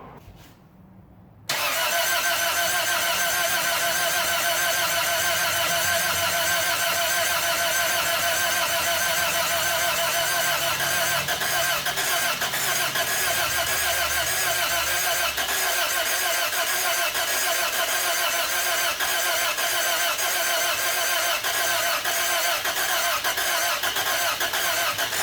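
Toyota Corolla engine, previously seized, turning over and running after a brief starter crank, a steady loud mechanical drone with rapid ticking that holds for over twenty seconds.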